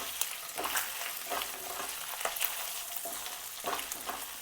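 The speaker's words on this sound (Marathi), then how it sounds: "ते आलं टाकून घेतलं आल्याची पेस्ट आणि ती पण परतून घ्यायची" Ginger paste frying in a pan for pav bhaji, a soft, steady sizzle with faint stirring scrapes recurring at intervals, fairly quiet and without talk.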